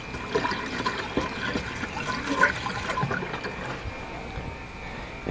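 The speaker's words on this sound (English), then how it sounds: "now we're going to go ahead and pour some antifreeze." RV antifreeze being poured into a travel trailer drain gives a steady close liquid glug and trickle with small splashes running throughout.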